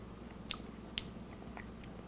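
Chewing and biting into homemade chicken salad while tasting it for seasoning, with two sharp crunchy bites and soft mouth sounds, close and quiet with no talk.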